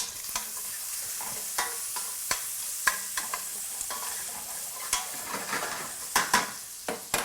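Bacon frying in a pot for beef bourguignon, a gentle continuous sizzle punctuated by scattered metallic clinks and scrapes of a utensil against the pot, busier toward the end, nearby and without speech.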